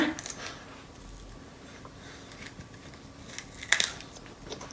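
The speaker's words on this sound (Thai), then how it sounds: "เสียงกัดนี่ดังกรอบดีมากเลยค่ะ" Crisp crunching bites into a raw vegetable as a child eats, with several sharp crackly bursts spread over a quiet room background and a louder crunch near the end.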